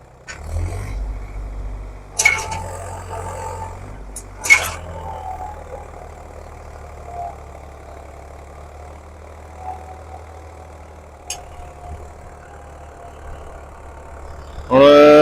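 A new Swaraj 855 tractor idles in a field to warm up, its engine a steady low rumble throughout, with a few sharp clunks near the start and a louder rise at the very end.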